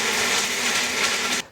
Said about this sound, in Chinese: 香料用料理机把它打碎。